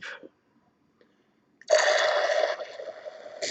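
Water drawn up into a syringe or bottle during e-liquid mixing gives a short gurgling slurp, a pause, then a longer, louder wet draw lasting nearly two seconds, close and quiet.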